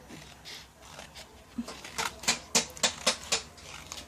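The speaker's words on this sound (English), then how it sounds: "I'm just cutting a strip of the gold paper." Scissors snip a strip of gold paper for junk journaling, a run of quick crisp cuts that speed up and grow louder toward the end, close to the listener in a quiet room.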